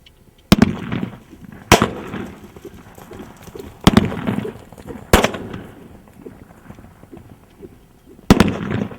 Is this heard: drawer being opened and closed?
no